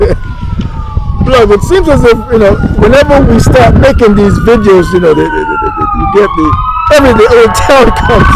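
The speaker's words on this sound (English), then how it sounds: "that's the ambulance running there." An ambulance siren wails through a small town, its rising and falling tone loud and continuous, sweeping under someone talking close by throughout.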